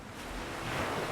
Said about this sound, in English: I love the noise, the water at the beach